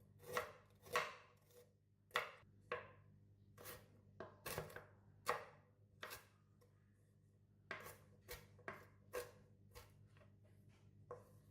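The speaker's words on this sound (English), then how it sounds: "Next, cut the galangal." A knife chops galangal on a cutting board while a Malaysian-style spicy tofu sambal is prepared: sharp, close, irregular chops come in quick bursts with short pauses, and no one speaks.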